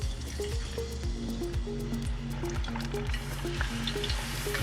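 Crab cakes dropped into hot frying oil, a steady close sizzle and crackle running throughout, with small bursts as pieces hit the oil.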